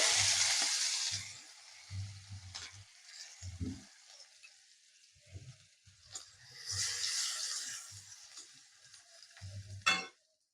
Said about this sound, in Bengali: তেলটা গরম হয়ে গেছে এখন আমি একটু হিং দিয়ে দেব একটু আদা কুচি দিয়ে দেবো